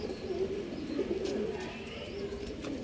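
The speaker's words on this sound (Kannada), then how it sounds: "ರೋಲ್ ಅಕ್ಕಿ ಇದು" A roller pigeon at a pigeon loft in RT Nagar, Bangalore, gives soft, repeated low coos in a gentle warbling rhythm, close but quiet, with faint background noise.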